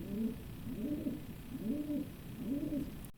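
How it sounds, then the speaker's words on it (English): A bird on a roof coos four times in a slow, regular rhythm, each soft throaty call repeating close by with faint background hiss. "the birds are doing a crazy noise"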